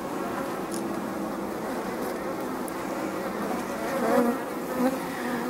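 Honeybees hum in a steady, dense buzz at an apiary hive, close and continuous, with a few individual bees swelling louder as they pass near.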